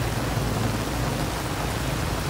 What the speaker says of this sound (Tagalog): Oh, tingnan mo yung tubig dito na malakas.